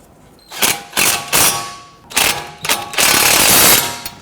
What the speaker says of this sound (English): Once we get our bolts started here, we can go ahead and tighten those down.